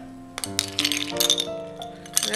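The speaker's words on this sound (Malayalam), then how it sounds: "ഐസ് ഇട്ട് കൊടുക്കാം." Five or six ice cubes dropped into a blender jar for a vanilla custard aval milkshake, landing close as a quick series of hard clinks and rattles.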